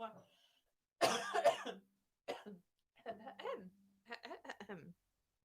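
A burst of harsh, close coughing, followed by a few more scattered coughs and throat sounds mixed with brief speech.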